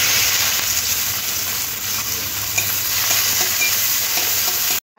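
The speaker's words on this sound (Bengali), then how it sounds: "তেলের মধ্যে দেব কেটে রাখা একটা পেঁয়াজ" Chopped onion fries in hot oil, giving a steady loud sizzle with occasional stirring scrapes, close up, before cutting off abruptly at the end.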